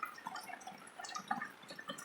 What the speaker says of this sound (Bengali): টপ টপ করে জল কোথা দিয়ে পড়ছে?